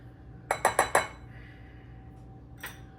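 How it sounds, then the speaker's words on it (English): Flour, baking powder and salt being whisked in a bowl: four quick, bright metallic taps against the bowl in a rapid burst, followed by quiet and then one last lighter clink. "2 cups of flour with 2 teaspoons of baking powder and 1/2 teaspoon of salt. So let's just whisk that up together."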